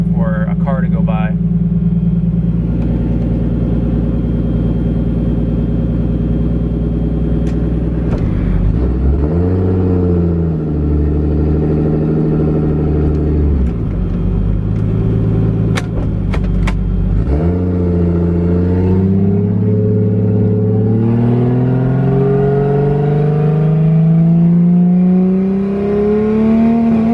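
A Fox Body Ford Mustang fitted with a 1JZ engine revs repeatedly and then accelerates. The loud, close engine note rises and falls through several rips and builds to a long climbing pull.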